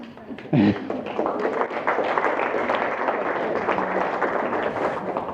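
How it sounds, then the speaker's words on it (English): An audience at a civil society data commons launch event gives a round of applause, a steady wash of clapping after a brief thump, continuing evenly for several seconds. "if you give me a round of applause, I will invite Davis."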